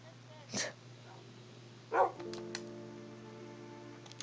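An angry dog in the Minecraft video game gives two short barks or growls about a second and a half apart, fairly close, over a steady electronic hum and faint game sounds.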